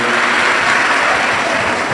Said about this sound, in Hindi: जोरदार ताली बजाकर स्वागत वंदन अभिनंदन